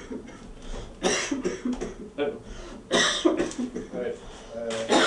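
A man with a lingering cold coughs several times in harsh, throaty bursts, clearing his throat between fits, close and loud, then speaks briefly.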